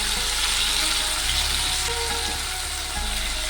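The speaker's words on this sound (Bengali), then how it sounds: "টমেটোটাকে দিয়েও কিছুক্ষণ নেড়ে চেড়ে রান্না করে নেব" Two medium chopped tomatoes fry in a pan with shrimp and cabbage, giving a steady close sizzle with a low rumbling undertone and faint stirring scrapes.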